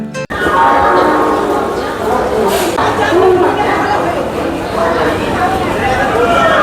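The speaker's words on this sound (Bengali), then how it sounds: "একটু অপেক্ষা করার পর ছটা কুড়ির পাঁচকুলা লোকাল চলে এলো" The 6:20 Panskura local train pulls in at a Howrah station platform, a loud, steady rumble with a brief horn blast over busy crowd chatter and voices nearby.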